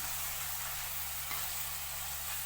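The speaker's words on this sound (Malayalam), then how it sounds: "നമുക്ക് ഇതുപോലെ ഇളക്കി കൊടുക്കാം ഒരു പത്ത് മിനിറ്റ് ഇങ്ങനെ" Sri Lankan style dried fish curry cooks in a pan with a faint, even sizzle, a low steady frying hiss, and no talking.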